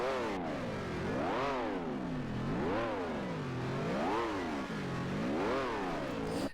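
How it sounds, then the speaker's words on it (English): A Ferrari engine in a sim racing game revs up and down repeatedly, rising and falling in smooth sweeping waves of pitch, loud and close with no talk. "why are you revving your engine?"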